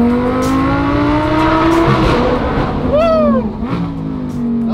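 A supercharged Lamborghini accelerates hard in low gear beneath an overpass, its loud, sustained engine roar climbing in pitch with a whining sweep as it pulls away.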